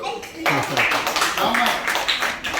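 Students at a summer camp clap together in quick, uneven bursts, a burst of rhythmic hand claps close by, while voices talk over them.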